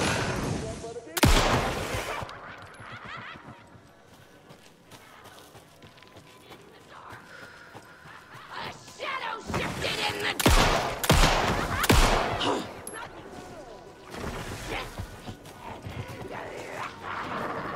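Pistol gunfire in the action-horror video game Alan Wake 2: several sharp shots and bursts stand out loudly over a dense game soundscape, with clustered reports around the middle of the sequence.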